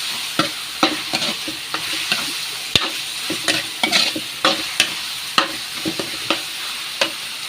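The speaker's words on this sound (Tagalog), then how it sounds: "Isasangkit na lang muna natin. Sa bawang, sibuyas, bawang at luya." Garlic, onion and ginger sizzle in hot oil for dinuguan, with repeated sharp clacks of a spatula stirring the pan over a steady frying hiss, close and moderately loud.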